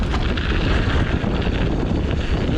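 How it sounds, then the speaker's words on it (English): Strong wind ripping across an open spot at Trexler Nature Preserve, a loud continuous roaring buffet with gusty surges that fills the whole clip. "The wind is just ripping."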